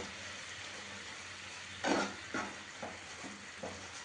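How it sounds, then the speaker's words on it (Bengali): Spice masala with salted tomatoes fries in a pan with a soft, steady sizzle, broken by several scraping stirs of a spoon, the first one loudest. "মশলাটা কিন্তু খুব সুন্দর করে কষানো হয়ে যাচ্ছে"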